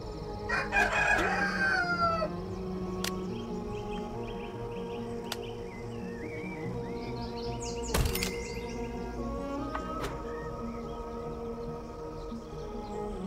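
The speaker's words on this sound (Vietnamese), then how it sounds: "Sáng sớm gà gáy rồi." A rooster crows at dawn in the game Honey, I Joined a Cult, one clear cock-a-doodle-doo near the start over a steady ambient game hum, followed by scattered clicks and chirps.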